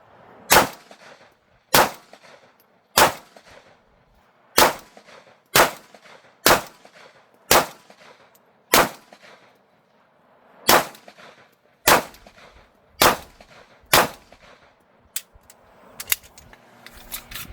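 Jericho pistol shots at an outdoor shooting range, a dozen or so sharp loud cracks fired one at a time with pauses of about a second between them, followed by fainter metallic handling clatter.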